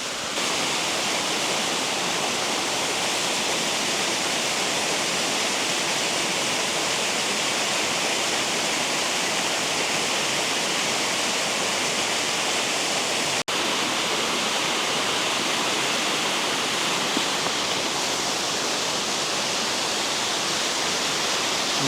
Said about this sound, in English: We're going to make our way down to the waterfall area.